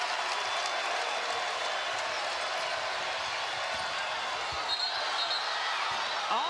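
A basketball arena crowd at an NCAA women's tournament game between Miami and Indiana stands and roars steadily, with sneaker squeaks and ball bounces cutting through the sustained cheering.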